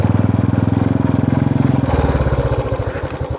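Motorcycle engine labouring under heavy load on a rough, stony track, a loud, close, rhythmic pulsing thump that shifts to a faster, uneven beat partway through.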